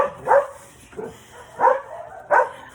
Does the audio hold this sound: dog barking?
yes